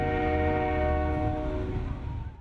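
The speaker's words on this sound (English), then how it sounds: "As the train made its way north to Binghamton, many came to the Nicholson Bridge for a scenic send-off" The Canadian Pacific Holiday Train sounds its horn as it passes near the Nicholson Bridge, a loud sustained chord of steady tones over rumbling wheels that fades slightly at the end.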